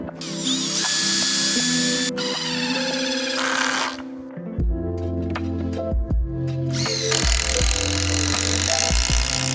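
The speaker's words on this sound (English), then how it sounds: "I bought myself a jigsaw which made diagonal cuts a lot easier" A jigsaw cuts wood outdoors in the bush, sounding in loud stretches of buzzing with brief pauses and clattering handling noises between the cuts.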